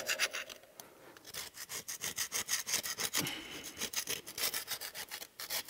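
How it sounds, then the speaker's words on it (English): Gasket material being scraped off a CAT C15 steel cylinder head, a close, rhythmic run of harsh rasping strokes repeating steadily with no talk. "I'm going to scrape the material off of the head."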